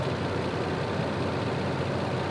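An older, high-mileage pickup truck engine idles steadily with a smooth, even low rumble and no other sounds over it.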